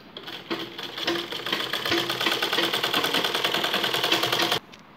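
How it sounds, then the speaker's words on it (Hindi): A sewing machine runs a continuous straight seam through fabric for a baby frock, its rapid even stitching chatter loud and close, stopping abruptly just before the end. "यहाँ पे एक सिलाई लगा लेंगे"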